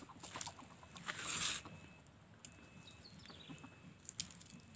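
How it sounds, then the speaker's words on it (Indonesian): Soft, scattered clucks and rustling from two Sumatran red junglefowl, with a brief louder burst of noise early on, in an otherwise quiet outdoor setting. "2 ayam hutan merah Sumatera ya"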